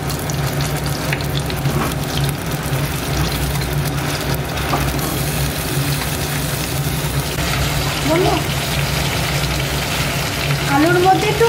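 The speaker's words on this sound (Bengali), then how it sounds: "কড়াইয়ে তেলটা দিয়ে দিয়েছি, এবার আলুটা আগে সবার প্রথমে ভেজে নেব।" Potatoes fry in hot oil in a kadai, giving a constant close crackling sizzle that stays steady throughout, with faint background sounds.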